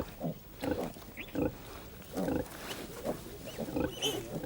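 A sow and her hungry piglets on an old-style farm grunt and squeal close by, in repeated uneven bursts with short quiet gaps between them.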